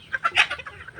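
Pet chickens cluck in short, quick bursts while being fed, several soft close clucks in rapid succession.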